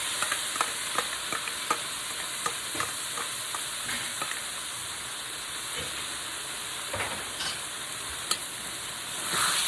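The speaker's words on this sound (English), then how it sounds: "I'm going to add the beef back in. And the broccolini, which I drained a minute ago." Beef and broccolini stirred in a hot pan, a steady close sizzle and hiss with repeated scraping clicks of the utensil against the pan, no talking.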